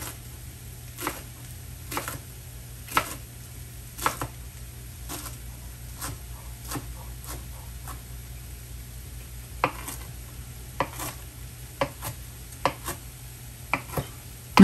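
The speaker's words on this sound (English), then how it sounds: "I cut the kale into strips. And then I go back and cut the strips into smaller pieces" A knife chops kale into strips on a cutting board, steady taps on the board coming roughly once a second, close and fairly quiet over a low kitchen hum, with no talking.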